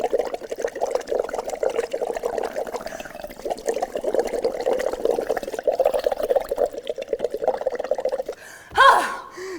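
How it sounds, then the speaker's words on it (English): Someone breathes hard through a straw into a container of water with pH indicator, making continuous bubbling and gurgling for several seconds, close and clear, ending with a sharp breath or gasp. "a lot of breathing, a lot of bubbles"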